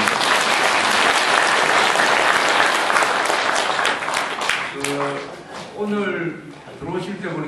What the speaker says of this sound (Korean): 우리 동창들한테 박수 한번 보내주시기 바랍니다